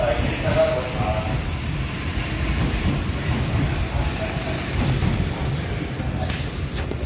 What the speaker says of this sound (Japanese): 連結作業のため電車が動いてます